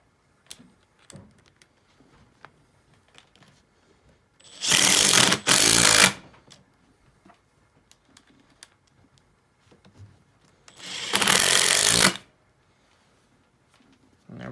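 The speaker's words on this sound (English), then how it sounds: "And this is the Makita XDT14 brushless 3-speed impact driver, and we'll be doing it on full speed." A Makita XDT14 brushless three-speed impact driver runs at full speed in two loud bursts of about a second and a half each, separated by quiet with small clicks and handling noises.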